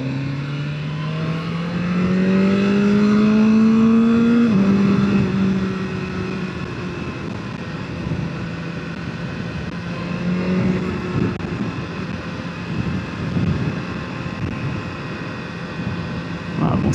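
A 2024 BMW S1000R motorcycle engine revs and accelerates, rising metallic tones sweeping up and down in pitch, loud and close, with someone talking over it partway through.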